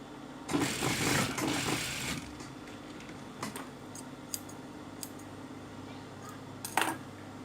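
A sewing machine stitches a jumpsuit in a short loud burst near the start, then gives way to quieter handling clicks and light taps.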